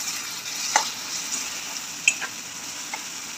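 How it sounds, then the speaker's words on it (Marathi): A spoon stirring chopped tomato into a bitter gourd curry in a hot pan, with steady sizzling and frying throughout and a few faint clinks of the utensil against the pan, no voices. "ते पण छान प्रकारे मिक्स करून घेऊ।"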